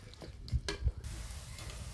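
Onions with broad beans fry and get stirred in a pan for prawn gravy, with two quick stirring knocks against the pan over a faint, steady sizzle.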